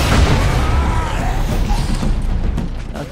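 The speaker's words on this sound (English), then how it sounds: "Nothing but explosions." Explosions in Warhammer 40K: Space Marine rumble loudly as a dense, continuous low boom, fading slightly toward the end, with no clear speech.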